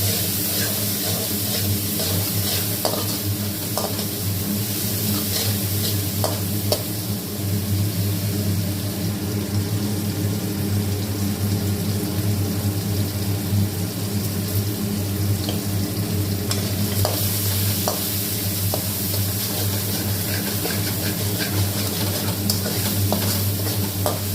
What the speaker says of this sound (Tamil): இந்த ரெண்டு தக்காளி பழமும் போட்டு கொஞ்சம் மஞ்சள் தூள் போட்டு வதக்கினீங்கன்னா